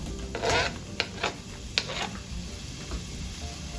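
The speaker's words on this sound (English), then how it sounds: "I'm going to add the onions in." Onions going into a hot pan for a home-canned spaghetti sauce, giving a steady sizzle with a few sharp crackles and pops near the start, then settling into a softer continuous hiss.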